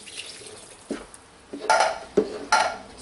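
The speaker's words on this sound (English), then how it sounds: "Stir after each can." Thanksgiving dressing being stirred in a pan after broth is poured in, wet scraping and clinking of a utensil against the pan in several uneven strokes, close and alone without talk.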